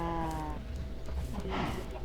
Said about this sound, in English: We don't have a lot of sheep in here.